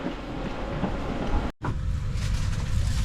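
A passenger train on Luxembourg's public transport rumbles along with a steady low roar and rattle, briefly cut by a short dropout midway, then resuming at the same loud, continuous level.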